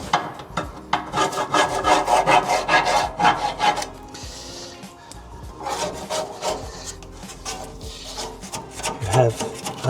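A plastic scraper rubs and rasps against the plates of a Weber gas grill in close, uneven bursts of scrubbing strokes with short pauses between them.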